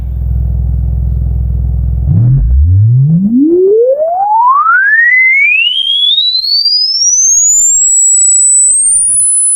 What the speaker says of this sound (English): It's truly horrible. It's 10 kilohertz.